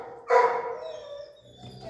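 A frightened dog gives one sharp bark, followed by a faint trailing whine, heard close and alone.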